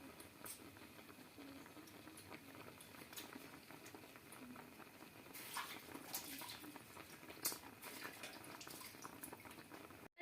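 Milk simmering in a pot with puli pitha, a steady close bubbling patter running unbroken throughout, with a few brighter pops and spits partway through.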